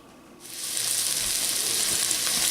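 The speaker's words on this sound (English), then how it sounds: "just fry it up like this until it's done to your likings" Green beans fry in plenty of grease in a pan, a bright steady sizzle that starts abruptly and holds loud and close with no talking.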